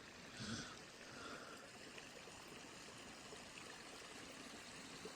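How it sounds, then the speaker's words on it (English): Clear water flowing steadily along Fire Creek on the Pacific Crest Trail, a soft continuous babble and trickle, faint and unbroken throughout. "It's on fire with clear looking great flowing water."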